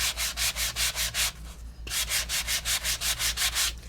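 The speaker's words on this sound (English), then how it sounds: "you can sand as much or as little as you would like" Sandpaper rubbed over embossed card paper, close rhythmic scratchy strokes of about six quick passes, a brief pause, then another run of steady strokes, with no voices.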